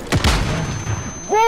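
Gunfire in the video game Modern Warfare comes as a dense burst of loud shots up front, fading into a rumbling tail and ending in a sharp tonal ringing sound.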